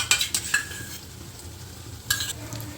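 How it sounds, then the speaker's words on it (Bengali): A spoon whisks strained yogurt in a bowl, giving short clinks and scrapes at the start and again near the end, with a faint, steady hiss between them and no voices. "জল ঝরানো টক দইটা চামচের সাথে একটু ফেটিয়ে নিচ্ছি"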